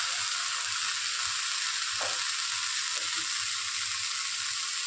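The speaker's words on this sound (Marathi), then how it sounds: "आणि आता शेवळ्याची भाजी घालते मी." Shevla vegetable sizzles in a hot pan, a loud, steady broadband frying hiss with a few faint stirring clinks, no voices.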